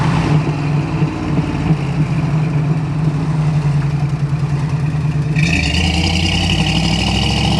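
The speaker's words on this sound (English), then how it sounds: "Downshifts like it should." A 1970 Ford Mustang with a 302 V8 and four-speed manual runs steadily from the cabin, then the engine note rises sharply near the end as it downshifts, loud and continuous with no talk.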